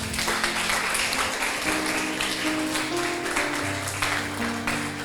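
Church congregation applauding together after a sermon blessing, a steady wash of clapping with some music tones underneath.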